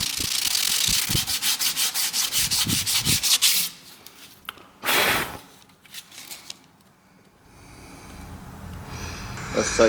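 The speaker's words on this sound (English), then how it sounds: "this is where a sanding sponge or a sanding block would come in very useful" Filler on an alloy wheel is sanded with a sanding block, giving a run of close, rhythmic rasping strokes, then a pause and a few longer scrubbing passes, with no talking.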